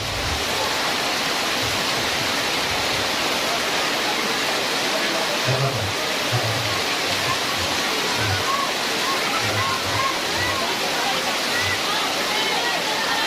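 Rain falling steadily on an outdoor religious gathering in Papua, a dense continuous hiss that fills the scene, with faint low thumps and voices beneath it.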